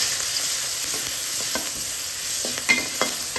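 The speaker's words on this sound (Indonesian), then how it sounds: "Sekarang kita tumis bumbunya untuk sayurnya." Spice paste heavy with shallots sizzles steadily in a hot pan for a vegetable dish, with a few stirring scrapes close by and no talk.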